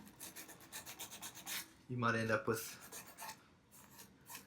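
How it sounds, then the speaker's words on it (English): Filing and sanding a nut slot on an acoustic guitar during an overhaul: a series of short rhythmic rasping strokes, then a louder sustained rub, with someone talking over part of it. "when you're sanding to get rid of all the file marks and smoothing things over"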